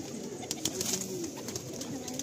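A pair of white Madrasi sira pigeons coo softly and continuously at close range, a low, rolling murmur with no voices over it.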